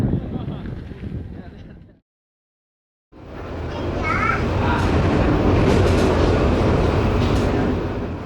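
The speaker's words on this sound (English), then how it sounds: "I'm currently riding an express train that left from Malang this morning, heading east all the way across the island of Java, Indonesia." An express train from Malang rolls across Java, Indonesia, filling the space with a steady loud rumble and hiss heard from inside, broken by a second of silence before the rolling noise returns.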